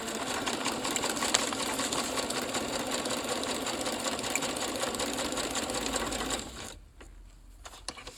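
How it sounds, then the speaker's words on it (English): A sewing machine stitching a small paper scrap onto paper runs in a fast, steady mechanical patter for several seconds, close and clear, then stops and leaves a quiet room with a couple of small clicks. "I'm just going to sew it on here."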